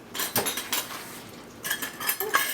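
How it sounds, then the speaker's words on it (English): A wooden spoon stirs cookie batter in a bowl, giving scraping, knocking strokes against the bowl in two short bursts with a quiet pause between them. "I'm just using a wooden spoon to mix it"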